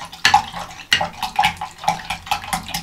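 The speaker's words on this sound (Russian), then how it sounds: "размешиваем." A spoon stirs laundry detergent powder into cold water, making close, rhythmic swishing and sloshing strokes, roughly half a dozen in quick succession, loud and alone.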